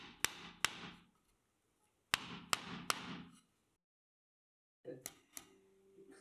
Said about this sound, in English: You just take a nail, hammer it in,